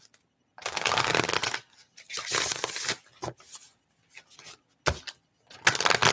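Several bursts of riffling cards being shuffled, crisp and close, separated by short pauses, with a few softer taps and slides between them.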